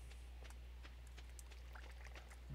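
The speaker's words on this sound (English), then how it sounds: "I hear that water again" Faint, steady trickling and pouring water from the Stardew Valley video game, running continuously under a low background hum with no talk.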